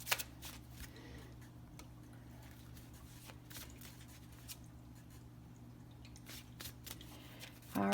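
Star Dragons oracle cards being shuffled by hand, soft papery riffles and flicks repeating irregularly, close and quiet, over a low steady hum, with a louder rustle at the very end.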